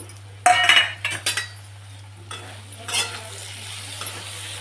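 Jaggery goes into a pot of cooked pumpkin, with close metal clinks and scrapes of a spoon stirring against the pot over a soft background hum, the clatter coming in short bursts before easing off.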